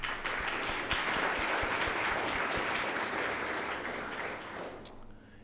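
Audience applause at a metropolitan club luncheon event, a broad wash of many hands clapping at moderate distance, steady then gradually thinning before stopping near the end.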